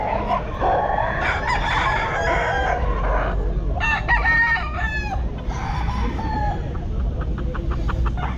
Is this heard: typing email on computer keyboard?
no